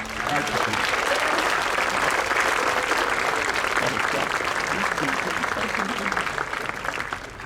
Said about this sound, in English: please join me in another round of applause to our world-class team